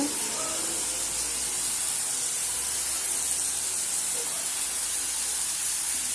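Chicken sautéing in a pan for Tamil-style chicken kulambu, a steady loud sizzling hiss running continuously throughout without talk.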